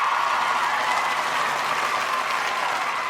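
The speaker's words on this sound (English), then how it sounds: "I'm already more excited just by the applause." Studio applause from a live podcast audience greeting an arriving guest, steady and dense clapping with a faint crowd murmur that holds evenly for about three seconds.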